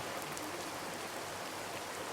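Steady rain falling, a dense, even hiss of drops that stays constant throughout with no voices.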